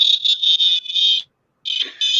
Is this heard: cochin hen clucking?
no